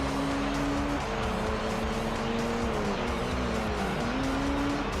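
Race car engines drone steadily in Gran Turismo 3, with whining tones rising and falling as cars run close together and pass, with no talk heard.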